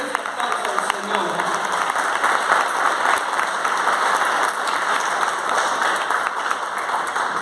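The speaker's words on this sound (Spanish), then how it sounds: "Denle ese aplauso al Señor." A church congregation applauds during a live worship service with steady, dense clapping that fills the whole stretch at an even level, with a few voices mixed into the crowd noise.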